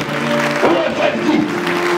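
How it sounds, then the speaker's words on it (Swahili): A church congregation claps together in a dense burst of applause, with a voice over it and the crowd's clapping rising midway. "Angalia wenzako alafu piga makofi."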